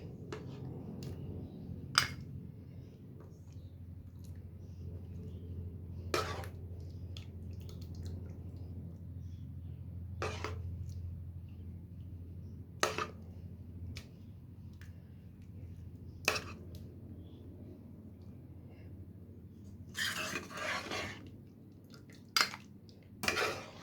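Pumpkin murabba spooned from a pot into a serving dish, with sharp clinks of a metal spoon against cookware at irregular intervals over a low steady background hum.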